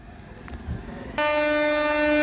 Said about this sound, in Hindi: हॉर्न की आवाज़ तो आती है लेकिन ट्रेन की आवाज़ नहीं आती